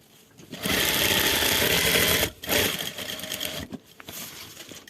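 A sewing machine stitches the back pocket of a pair of trousers in close, loud bursts of rapid whirring, pausing briefly between runs before a final short run.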